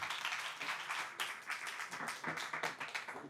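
An audience at an in-person talk claps for three women, a lively round of many hands with uneven bursts and accents, moderately loud and sustained to the end.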